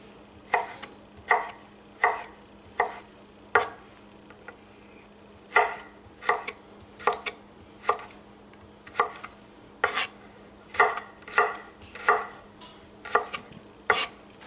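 A knife chops carrots into thin julienne strips on a cutting board, sharp close knocks in uneven runs with short pauses between, no voices.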